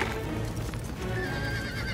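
A horse whinnies loudly and close, its high wavering call sliding over a dense low rumble with faint hoof clatter.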